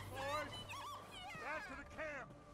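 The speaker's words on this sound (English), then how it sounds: "Oh, my dog's like doing stupid stuff." A dog in the video game Red Dead Redemption 2 whimpers and yips in several rising and falling whines, fairly close and moderately loud, with no talk.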